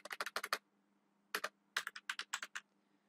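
Code being typed on a computer keyboard for a Python programming exercise: a quick burst of close, crisp key clicks, a pause, then a longer run of evenly spaced keystrokes over a steady low hum.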